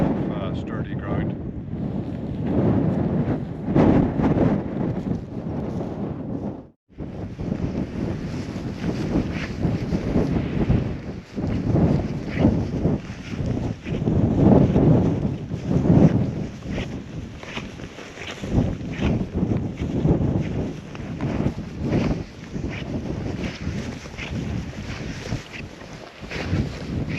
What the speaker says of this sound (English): it's just way too windy.